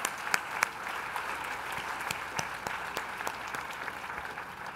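An audience at a 2019 scholarship gala breaks into steady applause, many hands clapping at a moderate distance in a soft, continuous patter with no voices over it.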